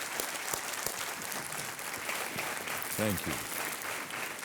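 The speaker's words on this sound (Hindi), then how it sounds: "एक बार फिर हम आपका अभिनंदन करते हैं तालियों के साथ।" A studio audience on the game show KBC applauds a contestant with continuous, even clapping at moderate volume. Someone speaks briefly over it.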